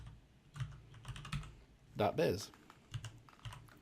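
Quick, light keystrokes clatter on a computer keyboard as an address is entered in Word 2016, with a short burst of speech breaking in midway before the typing resumes.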